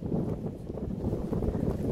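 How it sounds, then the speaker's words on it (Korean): Steady outdoor wind buffeting a microphone, a continuous low rumbling gust that swells slightly without pause. "바람 좋다, 그죠?"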